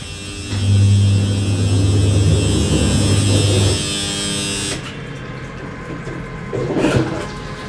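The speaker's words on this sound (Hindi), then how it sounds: "मेरी वॉशिंग मशीन आवाज़ कर रही है." A semi-automatic washing machine in a home runs with a steady, loud mechanical hum and whirring drone that shifts partway through, continuing alone without speech.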